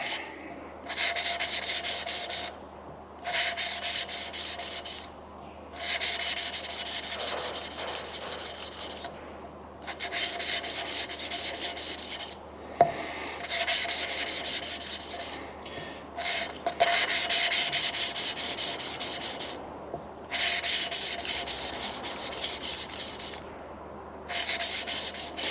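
Engine valves being lapped by hand, old-school style, a steady rhythmic gritty rubbing in long back-and-forth bursts separated by brief pauses, close and continuous with no talk.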